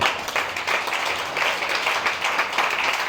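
A church congregation applauds, a dense, steady wash of many hands clapping at once that fills the room evenly, loud and sustained from start to finish, with no voices on top.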